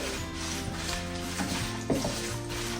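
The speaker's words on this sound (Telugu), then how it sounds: "ఈ ఎండుమిర్చిని మనం మంచిగా లో ఫ్లేమ్లోనే ఫ్రై చేసుకోండి" Dried red chilies fry gently in oil over a low flame, giving a soft continuous sizzle with light scraping and stirring clinks from the pan, close and fairly quiet.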